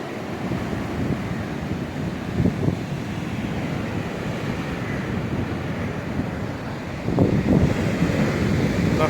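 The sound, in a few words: stormy sea waves and strong wind on Yalta embankment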